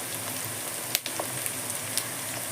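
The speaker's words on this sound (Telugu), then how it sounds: "ఇలా తాలింపు అంతా మనకు మంచిగా ఫ్రై అవుతూ ఉంటుంది" An onion tempering fries in a pan with a steady, close sizzle, broken briefly by a soft stir or clink partway through.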